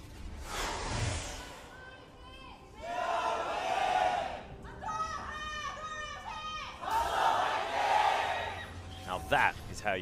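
A large esports arena audience roars and cheers during a League of Legends LCK Summer match between Jin Air Greenwings and Samsung Galaxy, with swelling waves of shouting and chanting that rise, dip and surge again, loud and close throughout.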